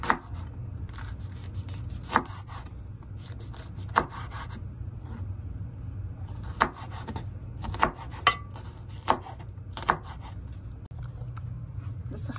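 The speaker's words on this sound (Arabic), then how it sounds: "دلوقتي هنخرط ايه الفلفل" A knife cuts bell peppers on a board in quick scraping strokes, with a few sharper chops at irregular intervals, close and fairly quiet.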